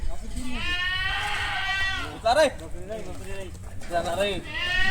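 Kathewadi goats at a sale bleat in long, wavering, nasal calls, one early drawn-out cry followed by shorter bleats and another rising near the end, close and fairly loud, with voices in the background.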